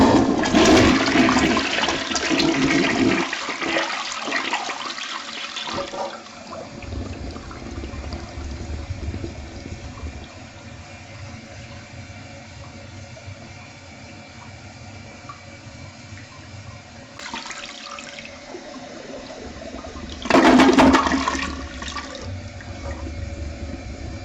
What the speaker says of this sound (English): now we are going to flush.